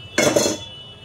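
A metal lid set down on a cooking pot of chicken pulao, giving two quick close clinks in a row that fade into a short ringing tail.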